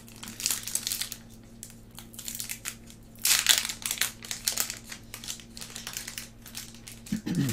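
Crinkling plastic wrapper of a Pokémon card booster pack being torn open and handled close up, a run of crackly rustles with a louder burst midway.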